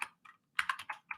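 Quick keystrokes on a computer keyboard as a search is typed, about eight crisp close clicks in an uneven burst with short pauses between them.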